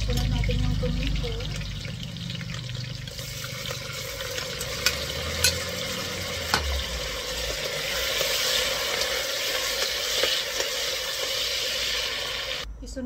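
Onion and tomato fry in cooking oil in a pan, a steady close sizzle with stirring and a few light clicks of utensils running throughout.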